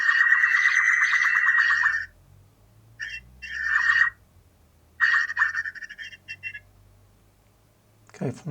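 Bird calls from a field recording arrive as bright, harmonic bursts with a buzzy, quacking quality, three phrases separated by quiet gaps, fairly loud and close with faint low background rumble.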